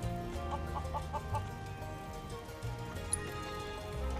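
Several chickens in Final Fantasy VII Rebirth cluck in short rhythmic bursts over a soft, steady game backdrop, close and moderately loud, with no talk.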